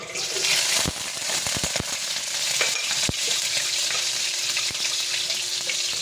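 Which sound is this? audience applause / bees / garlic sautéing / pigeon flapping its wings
garlic sautéing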